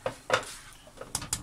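A spoon clinks and scrapes against a pot as salt and sugar are stirred into boiling water, making a few soft, sparse taps and knocks close to the microphone, with no speech.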